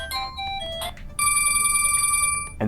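A Just 5 phone plays a loud electronic ringtone, a bright melody of sustained tonal notes that pauses briefly and then resumes in a steady, pulsing run, close to the microphone.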